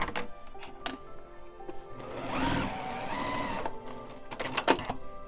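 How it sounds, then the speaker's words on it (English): A sewing machine stitches fabric scraps for a quilt, running in a steady mechanical whir for a couple of seconds, with clicks and handling noises before and after. "I'm going to straighten up the edge here and sew this on."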